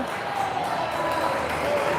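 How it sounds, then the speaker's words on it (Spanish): Steady applause and crowd murmur fill a women's futsal playoff match between Sportivo Barracas and Asturiano, a continuous wash heard from the stands while a commentator talks over it. "Aplauden a Day Antonini"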